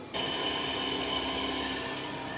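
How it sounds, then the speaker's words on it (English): A drill boring into a steel flywheel to balance it starts abruptly and runs steadily at a constant whining pitch, close and continuous, with no voices. "we're going to drill that side that's too heavy to lighten it to make it balanced"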